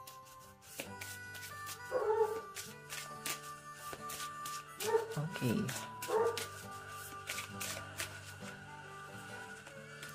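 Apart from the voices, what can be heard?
dogs barking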